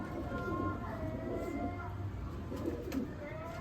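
A pigeon at a rooftop loft in Sultanwind village gives soft, low cooing calls at a moderate distance, faint and partly masked by background hum, with a voice speaking in the background.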